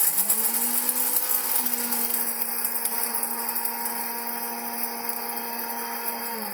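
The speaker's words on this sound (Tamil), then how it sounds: "பொட்டுக்கடலை இருக்குது பாருங்கள், அதை போட்டு கொஞ்சம் நல்லா மிக்ஸியில் பவுட்ராக்கி" A kitchen mixer grinder whirs steadily as it powders roasted gram, a loud sustained motor whine with a constant pitch and no talking.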